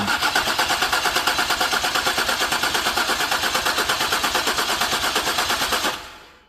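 Starter cranking on a 2011 Ford Explorer fitted with a new powertrain, a loud, steady, rapidly pulsing whir lasting about six seconds before it abruptly cuts off.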